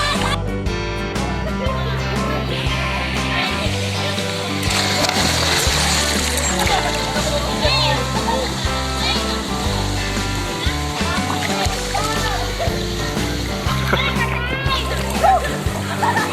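A person dives into water at a resort pool, splashing loudly and repeatedly, with children's voices chattering and shouting nearby throughout.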